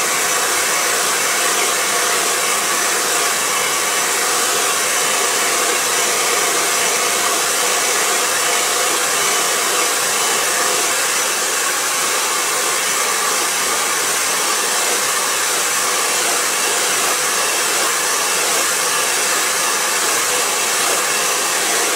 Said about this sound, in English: So now let's start Blowdrying.